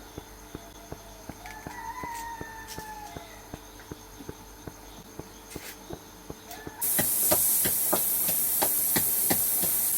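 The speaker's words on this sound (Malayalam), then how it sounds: "നമുക്ക് കുക്കറിൽ വിസിലടുപ്പിച്ചെടുക്കാം" Pressure cooker on a home kitchen stove: a run of regular, sharp ticking clicks gives way to a loud, steady burst of hissing steam that carries on to the end, with no talking.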